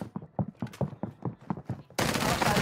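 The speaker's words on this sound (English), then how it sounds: "Taking effective fire." Quick rhythmic series of sharp gunshots in Warzone 2, about a dozen evenly spaced cracks, then a sudden wash of louder, denser noise at the end.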